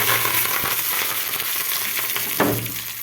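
Cumin seeds and curry leaves crackle and sizzle in hot oil while tempering for Gujarati dal dhokli, a steady close frying hiss broken by a few sharp pops and a brief stirring clink.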